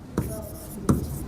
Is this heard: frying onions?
no